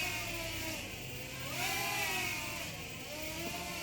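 Xintianyu F525 RC helicopter motor whining steadily as the model yaws, a continuous buzzing drone with a pitch that rises and falls twice, swelling slightly louder in the middle, no voices.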